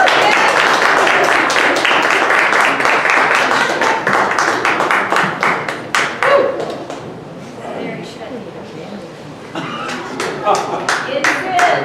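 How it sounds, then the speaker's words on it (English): Church congregation applauding a sermon speaker, a dense round of clapping that thins into scattered individual claps before picking up again, with a few voices underneath. "A round of applause, please"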